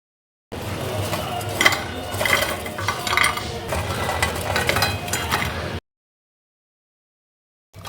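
Wheat flour snacks fry golden brown in hot oil, giving a steady sizzle broken by metallic scraping and clinking of a utensil stirring in the pan for about five seconds, then silence.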